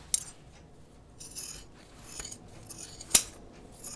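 Scissors trim the edge of a fabric seam on a pair of sewn jeans, with several separate crisp snips and a faint sliding rasp between cuts, close and fairly quiet, with no talk.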